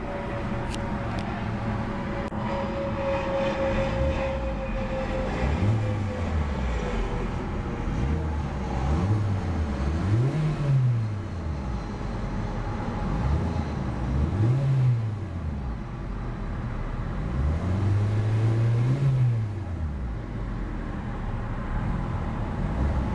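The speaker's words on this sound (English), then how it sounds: "A very beautiful and quite peppy exhaust note from that little four-cylinder power plant" A 2014 Hyundai Accent SE hatchback's 1.6-liter four-cylinder engine revved repeatedly, each blip swelling the exhaust note up and falling back to idle, about five distinct revs heard clearly with no talking.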